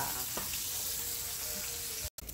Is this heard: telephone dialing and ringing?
no